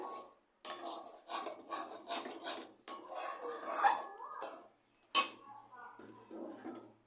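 A spoon scrapes and rasps around a pan in repeated strokes, stirring mango pulp and semolina for a sweet over low gas, close and fairly loud, with short pauses between bursts.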